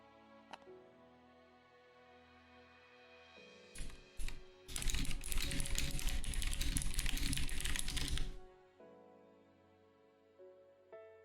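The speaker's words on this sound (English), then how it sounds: "Got a new keyboard and somehow ended up with one that's more noisy than the previous one." Rapid clattering keystrokes on a noisy new computer keyboard, a dense burst of loud typing lasting a few seconds between quieter isolated clicks, with no talking.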